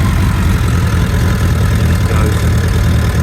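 A 2006 Suzuki GSF600 Bandit motorcycle with ABS idles steadily with the clutch pulled in, a loud, close, continuous low engine rumble with no other sounds.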